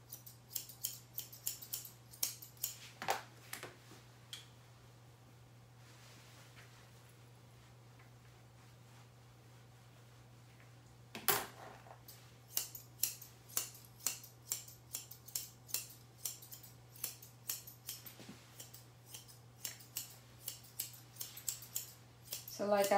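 Grooming scissors snip steadily through a Kerry Blue Terrier's coat, crisp quick cuts in rapid bursts with a short pause midway, close and clear over a faint steady hum.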